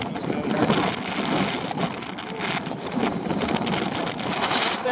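A strong, gusty wind roars across the microphone at the Skull Rock look-off over Admiral Lake in Nova Scotia, a dense, continuous rush close up with a voice partly buried beneath it.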